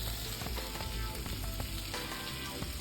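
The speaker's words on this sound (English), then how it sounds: "I do cook off my sausage" Sausage browning in a pan for gumbo, a steady dense sizzle with faint clicks and stirring scrapes throughout, close and fairly loud, no talk.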